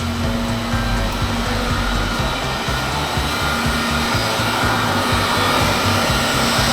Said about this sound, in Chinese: 打到自动模式，运行水泵，变频器频率 现在已经启动了啊！